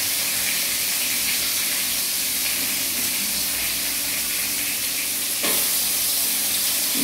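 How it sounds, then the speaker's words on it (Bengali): Food sautéing in a pan, a dense, loud, unbroken sizzle and hiss throughout with a brief scrape or clink near the end, close and without talk. "এখানটা কষিয়ে দেওয়া একটু"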